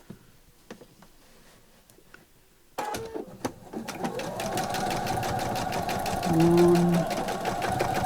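A sewing machine stitches back and forth along the top of a simple fabric bag, beginning a few seconds in after quiet room sound and then running as a steady, close, rapid mechanical hum, with a brief spoken word nearby.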